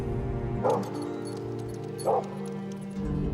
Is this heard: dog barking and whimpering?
yes